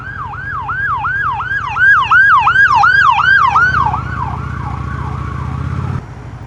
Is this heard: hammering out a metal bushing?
no